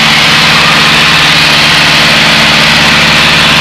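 A small training airplane's engine runs at throttle, heard from inside the cockpit during a private pilot flight lesson as a loud, steady, unbroken drone with no voices.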